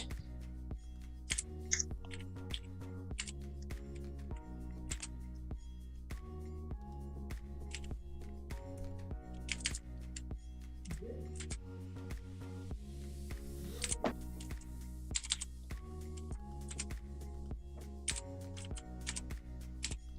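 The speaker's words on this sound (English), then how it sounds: "what are you typing?" Steady typing on a mechanical computer keyboard, a close, continuous run of crisp key clicks with irregular rhythm over a low, sustained musical drone, with no speech.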